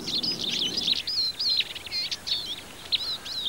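Forest birds such as chaffinches and goldcrests singing, thin high chirps and trilling phrases repeating nearby over a soft rustling background.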